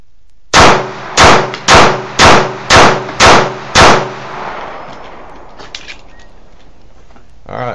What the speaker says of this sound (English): Put some rapid fire through this thing real quick,